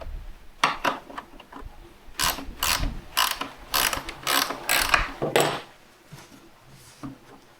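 Hand ratchet working in quick bursts of clicking pawl strokes, tightening carriage bolts on the legs of a wooden cornhole board, close and fairly loud with short pauses between runs.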